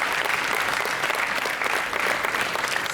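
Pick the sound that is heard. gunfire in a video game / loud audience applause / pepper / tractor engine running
loud audience applause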